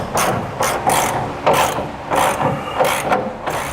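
A hand ratchet tightens bolts on fifth wheel base rail brackets for a 2015 Ford F-250 Super Duty, giving loud, close, rhythmic bursts of clicking in regular strokes with short pauses between them.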